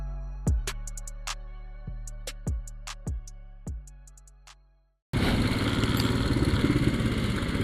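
A Royal Enfield Himalayan motorcycle on the road between Mumbai and Ahmedabad: plucked musical notes ring out first, then a sudden, loud, steady engine and wind roar fills the rest.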